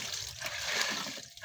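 A hand water pump gushing water in a steady rushing stream with light splashing, close and continuous over a brief moment.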